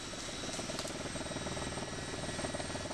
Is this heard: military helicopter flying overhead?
yes